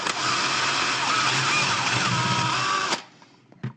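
Handheld power drill boring into a wooden base, a loud continuous grinding whir for about three seconds before it cuts off, followed by faint knocks.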